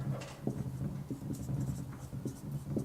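Writing during a chemistry lesson, a soft, close scratching of a pen or marker in short irregular strokes over low room hum.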